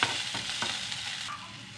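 Onion and garlic sauté together in a hot pan, giving a steady close sizzle broken by a few scraping stirs of a utensil, with no voices.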